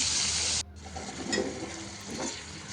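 Fish fries in oil in a pan, a loud steady sizzle that cuts out briefly and returns a little softer, close up with no voices.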